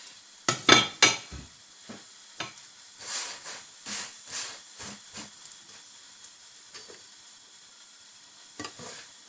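Moroccan msemen crêpe cooking on a hot pan gives off bursts of sizzling and hissing, with sharp spatula and pan clatter near the start and fainter sizzles in between.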